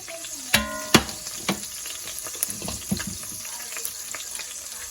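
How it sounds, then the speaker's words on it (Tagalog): Tofu (tokwa) frying in leftover pork belly oil sizzles steadily, and sharp spattering pops and utensil knocks come through near and clear. "Yung pinagprituhan ng pork belly, yan na rin ang gamitin sa pagpiprito ng tukwa."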